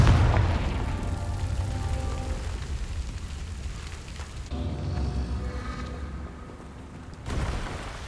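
A deep booming fire spell blast from the Confringo spell in the video game Hogwarts Legacy, heavy at the start and rumbling off, followed later by a second softer boom over steady game ambience.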